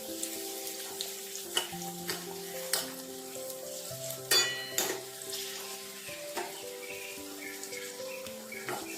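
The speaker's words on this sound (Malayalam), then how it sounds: "നമ്മൾ ഇതേപോലെ അണ്ടിപ്പരിപ്പും കിസ്മിസും ഒക്കെ മൂപ്പിച്ചിടുമ്പോൾ" Cashews and raisins fry in oil in a pan for a coconut milk and semolina dish, with a steady close sizzle and a few scraping stirs and clinks of a utensil against the pan.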